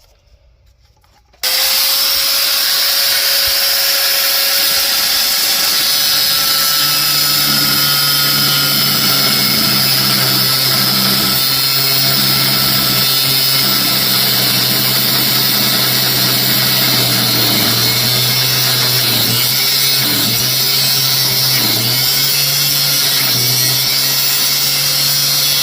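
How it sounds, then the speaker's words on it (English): Power tool grinding through a bolt on an old abandoned lawn tractor, a loud continuous high-pitched cutting whine close by that runs steadily for over twenty seconds after a short quiet start, with a lower drone beneath. "I'm gonna try and come in here and not hit my belts and cut that bolt"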